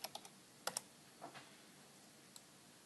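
Typing at a computer keyboard, a few quick scattered key clicks close by followed by a couple of isolated taps, fairly faint in an otherwise quiet room.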